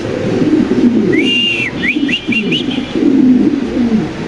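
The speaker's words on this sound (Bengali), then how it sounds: "দেখেন এই যে আবার নর ডাকতেছে" A male fancy pigeon calls with a run of short whistled coo notes over steady low background noise and murmuring, fairly close and clear.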